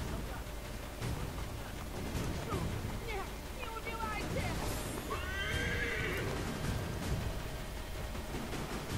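A horse neighs and whinnies in the Assassin's Creed III video game, with hoofbeats clip-clopping beneath a steady background hiss and voices speaking in the game.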